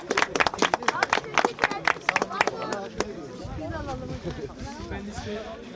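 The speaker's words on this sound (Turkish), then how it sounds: "Evet alkış yapın." Crowd applause at a school athletics cross-country award ceremony outdoors: a burst of brisk clapping for a few seconds that gives way to people talking nearby.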